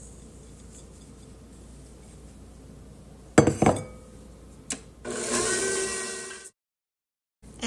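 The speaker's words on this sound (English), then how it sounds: "Then half a cup of white sugar." Half a cup of white sugar poured into a mixing bowl for chocolate chip cookie dough: a few bright glassy clinks, then a steady, close granular hiss lasting over a second before abrupt silence.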